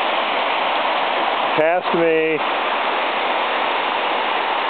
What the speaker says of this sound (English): it goes straight up this waterfall, which you can see up there